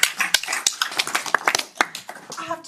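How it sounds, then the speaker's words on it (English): Audience at a theatre conference giving a round of applause, distinct sharp claps from a small group close by, irregular and lively, tapering slightly toward the end. "I think that deserves a round of applause."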